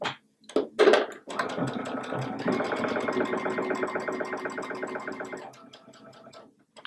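A sewing machine stitches binding onto a quilt, starting with a few short handling knocks before settling into a steady whirring, rapid rhythmic chatter of the needle for several seconds, close and clear, then slowing to a stop, with no talking.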